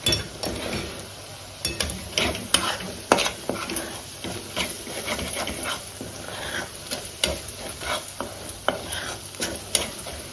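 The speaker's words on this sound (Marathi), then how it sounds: "कांद्यातच डाळीचं पीठ पण भाजायचं" Gram flour roasting with onions in a hot pan for dudhi kofta curry: near, continuous sizzle broken by frequent spoon scrapes and taps against the pan as it is stirred, with no voice present.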